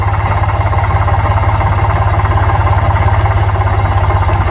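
A sugarcane-loaded tractor drives through water, its engine close and loud with a fast, even chugging pulse and a faint rattle.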